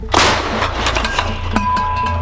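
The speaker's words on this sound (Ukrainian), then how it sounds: "Позиція гармата Д-30." A D-30 howitzer fires at a frontline position with a sharp, booming blast that rolls into a long rumbling echo, followed by lingering low noise.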